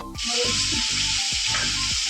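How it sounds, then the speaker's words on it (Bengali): Potatoes frying in hot oil give a loud, steady sizzle that starts suddenly and continues throughout, close up, with faint clinks and low background rumble. "মাছের জন্য আলু ভাজা বসে নিয়েছি"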